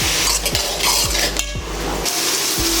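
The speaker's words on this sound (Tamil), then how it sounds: "அப்படியே இஞ்சி பூண்டும் சேர்த்து வணக்கிக்கலாம் கூடவே தக்காளி ஒரு ஆறு தக்காளி போட்டு வணக்கிக்கலாம்" A utensil scrapes and stirs onion, tomato, ginger and garlic through sizzling oil in a pan in steady strokes about every half second, with oil crackling continuously underneath.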